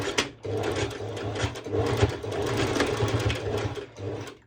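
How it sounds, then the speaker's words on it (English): A sewing machine runs a continuous straight stitch over activewear shorts straps, its motor whirring loud and close with a fast steady rhythm after a brief pause at the start. "I'm going to do a straight stitch over"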